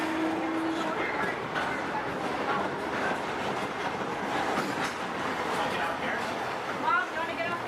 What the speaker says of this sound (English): until the train comes to a complete stop